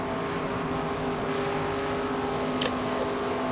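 A stock car in the NASCAR 25 video game pulls away from a pit stop, a steady engine drone holding throughout with a brief sharp burst near the end.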